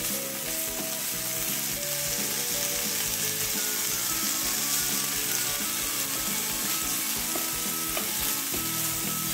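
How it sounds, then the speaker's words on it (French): Bacon lardons sizzle and brown in a pan, a dense, steady frying hiss that runs close and loud throughout, with what sounds like background music underneath. "je viens rajouter le bacon là que je vais aussi dorer"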